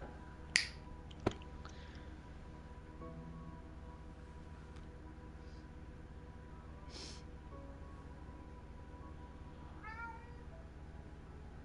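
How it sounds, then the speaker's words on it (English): A cat meows in the video game Beyond: Two Souls, a few short, faint calls spread over a quiet stretch, after two sharp clicks near the start. "I heard the cat."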